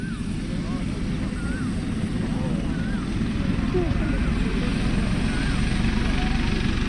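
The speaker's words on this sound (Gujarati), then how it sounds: "હવે ફૂલ સ્પીડ થઈ છે હેલિકોપ્ટરની" A helicopter's engine roars with a steady, loud rotor thrum and a high whine, continuous throughout, close by and running at full speed before takeoff at a Bagdana Guru Purnima gathering.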